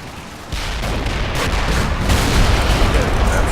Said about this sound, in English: look at all those rockets!